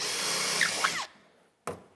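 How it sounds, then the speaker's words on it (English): A power drill whines for about a second while drilling a hole for a skateboard rack, then stops; after a brief quiet pause it gives one more short burst. "Drill our 2 holes."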